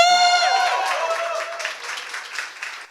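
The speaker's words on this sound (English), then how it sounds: "can I get a massive round of applause to say we're launching our game jam right now?" An audience at a game jam launch cheers, with a high whooping voice at first, then breaks into a dense wash of applause that slowly fades.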